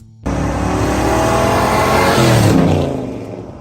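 A 1970 Chevrolet Chevelle SS454 with its 454 cubic inch V8 roars loudly and continuously, the engine note swelling as it revs and then easing off toward the end; no voices.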